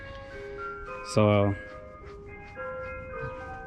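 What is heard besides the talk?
ice cream truck jingle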